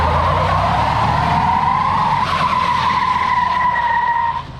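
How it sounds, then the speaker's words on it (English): A 2021 Cadillac Escalade with traction control off squeals its tires in a burnout, a loud sustained screech with a rising whine that holds for several seconds before cutting off. "you can roast the tires."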